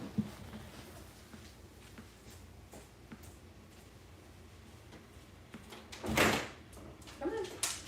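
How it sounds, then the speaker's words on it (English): A dog scratches and bumps at a closed bedroom door wanting in, scattered faint scrapes and knocks giving way to a louder rattling burst of scratching near the end, with a brief low voice sound. "my dog is scratching at the door to come into the bedroom"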